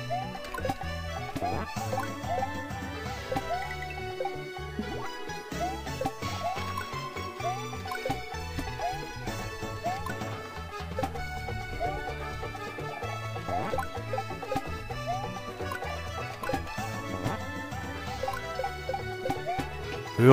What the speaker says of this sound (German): Ja, ist Wasser, zum Glück.